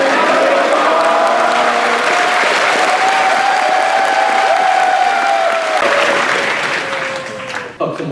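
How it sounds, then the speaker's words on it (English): An audience at a charity event gives sustained applause for a supporter named Fox, a steady dense roar of clapping with some cheering tones, tapering slightly near the end. "can I have a very big thank you, Fox, and a big round of applause for you"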